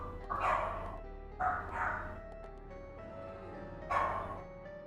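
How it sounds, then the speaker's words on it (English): Dogs bark indoors as people leave for work, three muffled bursts of barking at moderate distance, spaced irregularly over a low background hum. "Sorry about the barking."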